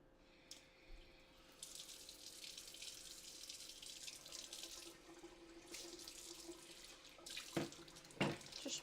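Tap water runs steadily into a kitchen sink as kimchi is rinsed of its red pepper bits, a continuous close hiss with a few louder splashes and clunks toward the end.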